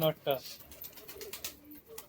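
Domestic pigeons coo softly in brief low murmurs, faint and close, mixed with a few short bursts of people talking nearby.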